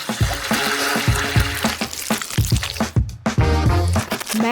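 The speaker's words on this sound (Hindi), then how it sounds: "जेलेटिन को चीनी और पानी के साथ मिलाऊंगी और उन्हें अच्छी तरह से बीट करूंगी" Gelatin being beaten with sugar and water in a kitchen, giving wet squelching and sloshing strokes with irregular thumps and splashes, close and fairly loud, with no talking.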